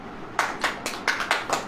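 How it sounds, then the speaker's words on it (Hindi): Sparse hand claps from an audience at a sermon, about six separate claps spaced at a steady, loose rhythm, moderately close with faint room background. "ताली हो जाओ।"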